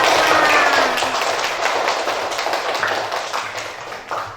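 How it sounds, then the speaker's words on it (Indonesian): A class of pupils claps their hands during a lesson, a loud rapid burst of many hands close by that gradually tapers off, with some voices mixed in. "Beri tepuk tangan dulu untuk kalian semua."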